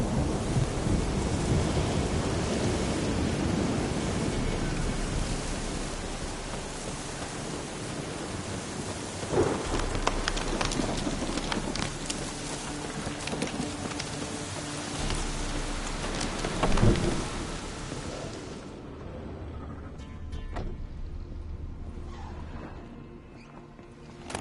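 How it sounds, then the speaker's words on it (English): Thunderstorm in The Witcher 3: Wild Hunt, with steady heavy rain drumming across the whole stretch and rolling thunder cracks around the middle, the rain thinning toward the end. "A storm, damn it."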